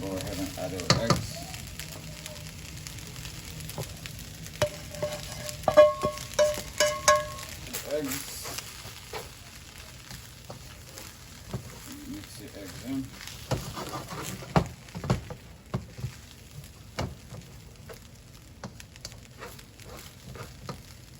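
Eggs sizzle and fry in a hot wok for fried rice, a steady close crackle with scattered sharp pops and occasional scraping stirs, with a voice talking intermittently over it.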